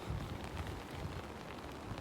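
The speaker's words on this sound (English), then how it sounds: "It's a rainy morning." Rain falls steadily on a morning, making an even, soft hiss of drops on surfaces with no other sounds standing out.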